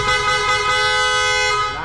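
A Honda Click 125 motorcycle's loud horn gives a continuous blast held for nearly two seconds, close and piercing, with a faint rumble of traffic underneath.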